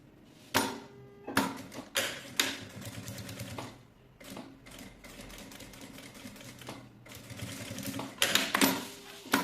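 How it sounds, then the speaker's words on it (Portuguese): A sewing machine topstitching a zipper onto a bag runs in short bursts of rapid mechanical stitching, separated by brief pauses and handling clicks, close and fairly loud. "E agora, vamos fazer a costura de pesponto."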